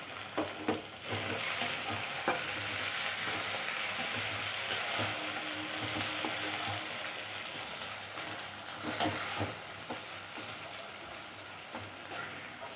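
Thinly sliced tomato, shallots and curry leaves sautéing in a pan for a Tamil curry, with a steady close sizzle and occasional stirring scrapes running throughout.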